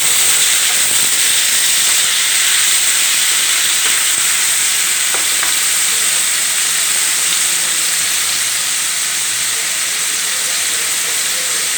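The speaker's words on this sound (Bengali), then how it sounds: "টমেটোটা দিয়ে আমি একটু নেড়ে নেব।" Tomato frying and being stirred in a pan of hot oil, a loud continuous sizzle and hiss close by, with a few faint spoon scrapes, steady throughout and without talk.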